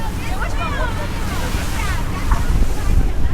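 Boat speeding across open ocean waves off the Napali coast, with wind buffeting the microphone, rushing water and surf noise, and faint background voices and music throughout.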